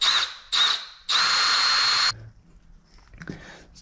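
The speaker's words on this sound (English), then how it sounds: "Okay, so we're going to drill the 7/32 hole." A power drill boring a 7/32-inch hole for a Jeep Wrangler hardtop storage hoist whirs in two short bursts, then a longer one-second run, high-pitched and close, followed by faint rustling.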